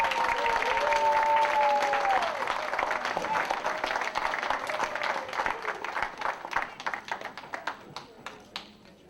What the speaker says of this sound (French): On a demandé qu'on applaudit Sylvain Simon.